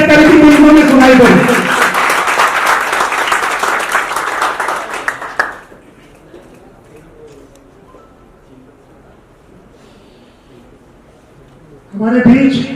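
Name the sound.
loud applause in honour of Dev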